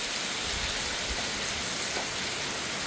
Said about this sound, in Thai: ลมฟ้า ลมฝนก็มาพอดีเลยค่ะ